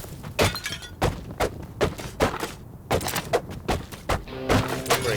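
Crates and objects smashing open in the Western roguelite game Colt Canyon, a rapid run of sharp cracks, thuds and shattering hits in uneven bursts, loud and close, with game music underneath.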